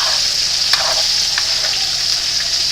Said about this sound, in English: You just want to get your spoon, and you'll want to stir them up a bit